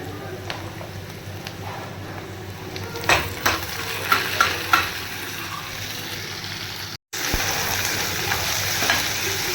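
Browned onions sizzle steadily in a hot pan while a spatula stirs and scrapes in bursts. Chopped tomatoes then drop in after a brief gap, and the frying continues close and fairly loud.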